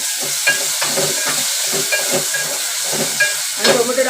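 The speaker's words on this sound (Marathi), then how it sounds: "आणि मी टोमॅटो टाकते।" Tomatoes drop into hot oil with turmeric for a Marathi cauliflower and potato bhaji, giving a steady sizzle and hiss broken by light stirring clinks, with no voices.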